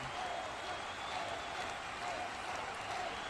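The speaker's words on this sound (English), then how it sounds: "Crowd on their feet, getting hyped for these two tonight." Crowd at a live wrestling show cheering and applauding, a steady dense roar of clapping and voices throughout, loud and continuous without pauses.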